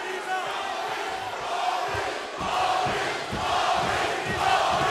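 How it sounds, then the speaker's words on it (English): An arena crowd at a UFC heavyweight championship fight chants steadily in a loud, continuous rhythmic roar that fills the space, with no clear talk on top. "And the crowd getting behind Smith right now. And they're chanting Maurice"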